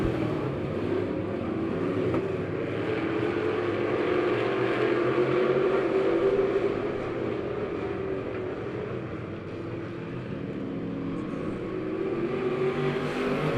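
Race cars at Lebanon Midway Speedway roar steadily out of turn four, a loud continuous engine drone with a mild swell of revving around the middle and no talk over it.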